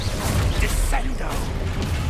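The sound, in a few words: Descendo spell effect in a wizard video game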